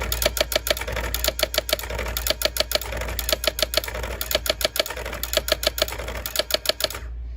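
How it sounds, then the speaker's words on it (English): A 1990s Brother Correctronic 360 electronic typewriter erases a whole word with one button, giving a close, steady run of rapid mechanical clacks that repeat in quick bursts for about seven seconds over a low motor hum. "You can just erase an entire word just by hitting that button."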